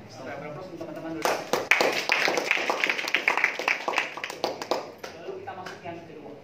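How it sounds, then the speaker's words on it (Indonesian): Audience applause at a distributor training session for a direct-selling health products community, a dense burst of many hands clapping that rises suddenly and holds steady, with a voice talking over it. "Beri aplaus untuk teman-teman dulu."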